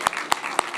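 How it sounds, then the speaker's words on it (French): An audience applauds at the close of a French-language round-table talk on health information in the media, three distinct claps in an even rhythm over a soft, hissy wash of more clapping. "je pense qu'on peut tous applaudir Alice et Anaëlle pour aujourd'hui."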